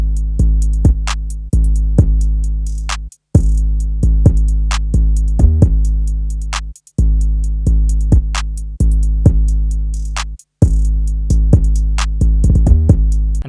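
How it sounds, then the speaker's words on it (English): Deep 808 bass hits produced in FL Studio follow a bassline under a kick, with booming sustained low notes, short gaps and a rolling bounce near the end, loud and without talk. "So I added these 808s just to follow the bass notes."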